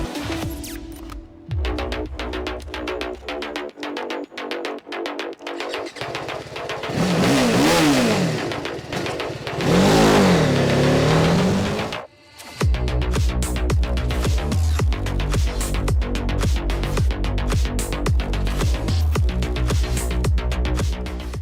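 Apache RR 310 BTO 300cc motorcycle on a racetrack, its engine revving hard and loud close by, with rising and falling pitch through gear changes and a brief sharp drop before the throttle picks up again.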